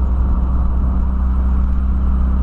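A 1985 Volkswagen Voyage with a carbureted, alcohol-fuelled AP 1.6 engine idles with a steady, low rumbling hum, close and constant throughout, with no voices.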